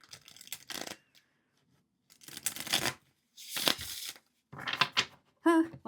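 A storyboard tarot deck is shuffled in several short bursts of riffling, crisp card flutters separated by brief pauses.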